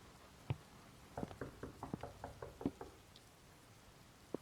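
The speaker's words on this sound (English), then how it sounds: "Was that knocking at the door?" Several sharp knocks rap on a door in an otherwise quiet room, one isolated hit followed by a quick irregular cluster of taps and a last knock at the end, fairly close and moderately loud with no talking.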